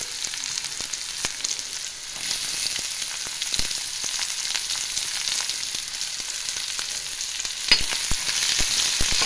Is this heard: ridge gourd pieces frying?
yes